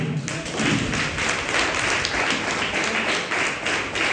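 Congregation clapping together in a church during a First Communion service, a steady dense patter of many hands filling the room for about four seconds with no talk over it.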